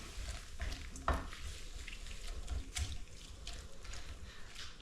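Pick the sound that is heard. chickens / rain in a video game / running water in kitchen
running water in kitchen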